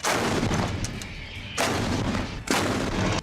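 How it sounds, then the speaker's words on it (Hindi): Heavy artillery shelling in Idlib, Syria: loud, close booming blasts with roaring bursts, one around the middle and another near the end, over constant rumbling noise. "विद्रोहियों पर तोपों से जबरदस्त गोलाबारी की गई।"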